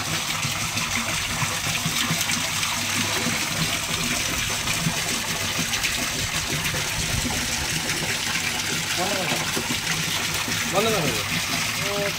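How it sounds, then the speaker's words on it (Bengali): Water pours steadily into a rooftop fish pond holding large golden fish, a constant rushing gush running the whole time beneath a person talking. "আমাদের এখানে জলটা ফিল হচ্ছে"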